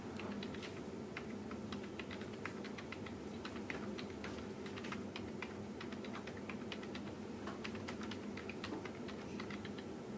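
Steady, rapid typing on a computer keyboard while entering data, with dense clicking keystrokes running continuously throughout at moderate volume over a low room hum.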